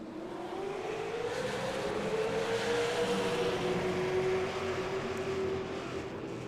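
Stock cars at a Kern County short-track race pull away at a restart, a loud engine roar rising in pitch as they accelerate, then holding a sustained drone as the pack passes, with no talk.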